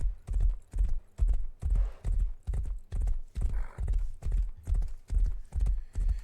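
Horse hooves clip-clop at a steady walking rhythm in a survival video game, a dozen close, loud even beats with a faint whinny-like tone partway through and no talking.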